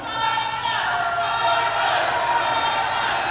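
A wrestling arena crowd at an NWA Southwest Wrestling show, a dense roar of chanting and cheering that holds steady and loud throughout, with voices blending into a continuous din.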